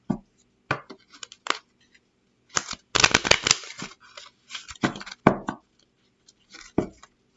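Lenormand cards being shuffled and handled close up, with crisp riffling flutters and soft slaps in irregular bursts separated by short pauses, a denser flurry in the middle.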